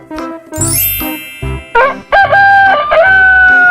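A rooster crows in a toddler farm-animal sounds game, a loud clear crow after chiming game tones and plinks, with no talking.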